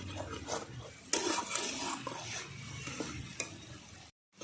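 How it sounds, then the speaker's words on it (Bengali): Ground spice paste frying in a pan, stirred with a spoon in repeated scraping strokes over a soft sizzle, close and without talk, ending abruptly. "আমি সিলেই বেটে নিয়েছি আমি কষিয়ে নেব মশলা দিয়ে"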